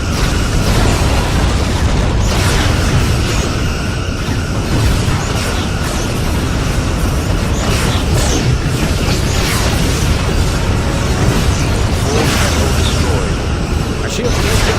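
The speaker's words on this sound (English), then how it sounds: "Borg vessel destroyed." A Borg vessel exploding during a space battle in the Star Trek Legacy video game, heavy booms and rumbling blasts over dense continuous weapon and engine noise, with voices talking over the loud action.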